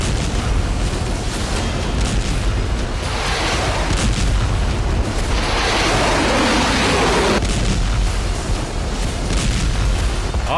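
A blast on the British oil tanker MV Marlin at night: a loud, continuous rumbling roar of explosion and burning, with deep low booms and a brighter surge midway, sustained throughout.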